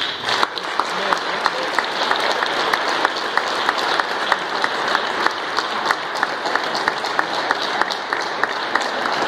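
Audience applause at a Black History Month launch ceremony, steady dense clapping from a crowd filling the room at an even level throughout, with a voice talking briefly over it.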